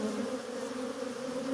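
A honeybee colony buzzing steadily at the hive during swarming, a dense, continuous close-up hum with no talk over it.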